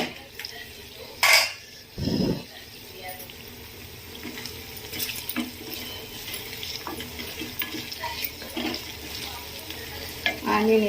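Chopped onion with a little turmeric cooks in a pan as a potato curry is made, giving a low steady background of frying punctuated by a few louder clanks and scrapes of stirring; no one speaks.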